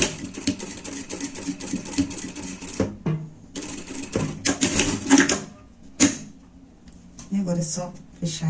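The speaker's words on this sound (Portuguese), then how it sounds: "vai colocar o teu zíper aqui e vai passar uma costura" Sewing machine stitching a zipper into a lined jacket, bursts of rapid mechanical stitching with short pauses, close up and loud, while a voice talks over it.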